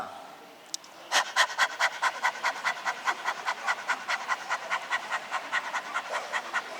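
Group of yoga participants at a camp imitating a dog's panting in a dog-breath exercise: rapid, rhythmic huffing breaths starting after a brief pause and continuing steadily, loud and close.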